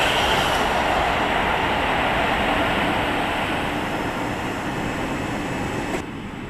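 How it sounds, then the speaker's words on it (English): A Class 332 electric train passes through West Ealing station on the Great Western Main Line, a loud, steady rumble and rush of wheels and air that fades slightly near the end. "The train now passing will be a class 332"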